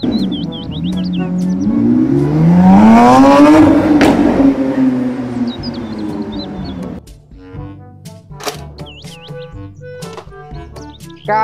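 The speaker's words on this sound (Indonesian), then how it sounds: "Mobil balap." A toy race car engine revs up to a loud, rising whine, then drops away, leaving scattered chirps and electronic beeps from a children's toy vehicle sound effect.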